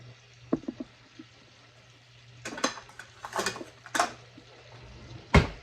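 Metal cutlery clinks and rattles in a home kitchen as a spoon is grabbed, several sharp clatters and scrapes near and fairly loud over a low steady hum.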